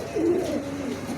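A male pigeon from a pair of a pigeon breed gives a single short, soft, low coo, close by and quiet.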